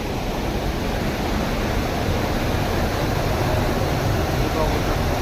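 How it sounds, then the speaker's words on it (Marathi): Water roaring out through the opened gates of a tall dam, three of seven gates open, making a loud, steady broadband rush that holds without a break. "पाण्याचा सोर आवाज."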